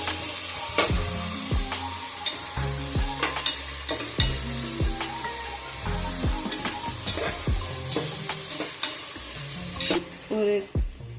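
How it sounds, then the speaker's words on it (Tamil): Onions sautéed in oil until roasted, a loud, steady sizzle close up with repeated sharp scrapes and knocks of a spoon against the pan, no voices. "இப்போ ஆனியன் வெங்காயம் நல்லா வதக்கணும். நல்லா ரோஸ்ட் ஆகிற வரைக்கும் வெங்காயம் வதக்கணும்."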